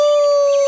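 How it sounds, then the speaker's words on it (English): A dog's howl in a children's audiobook, a single short, loud, sustained tonal cry heard alone. "Duke howled."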